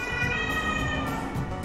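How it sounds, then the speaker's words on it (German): An ambulance siren wails steadily at close range, its tone holding over a bed of road and traffic rumble through the brief moment with no speech. "Da kommt der Krankenwagen schon, um mich abzuholen."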